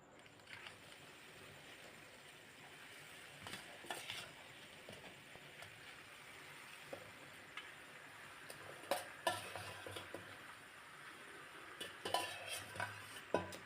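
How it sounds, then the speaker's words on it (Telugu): Chicken pieces are stirred in a kadai for chicken pickle, with faint scraping and intermittent metal clinks of the spoon against the pan over a quiet sizzle, and no talk. "వేసుకున్న తర్వాత ఈ విధంగా కలుపుకుంటున్నాను"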